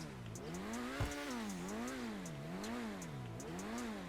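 Xeno supercar in GTA Online, modelled on the SSC Tuatara, starts with a sharp ignition catch and then settles into a loud, steady idle that rises and falls in slow waves, close and with no talk over it.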